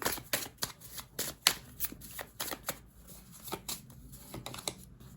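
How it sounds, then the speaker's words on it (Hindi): Tarot cards are shuffled and drawn by hand in a series of quick, close riffling and snapping bursts at an uneven rhythm, quiet overall and without speech. "और कुछ हम कार्ड्स निकालते हैं, देख लेते हैं क्या आते हैं आपके लिए।"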